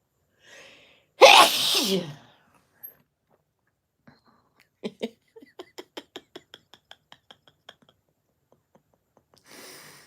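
A single sharp sneeze bursts out, followed by a quiet sniff and a string of soft, rapid clicks and taps in an otherwise silent room.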